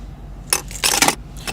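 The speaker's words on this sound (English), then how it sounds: "That's what the key looks like. Standard BMW key, nice chrome." A standard chrome BMW key from a 2017 BMW 6 Series Cabriolet jangles close by in two short metallic bursts, the second longer and louder, with a faint third clink at the end and no talking.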